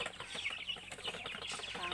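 Several chickens cluck and chatter close by in quick, overlapping bursts, with no talking.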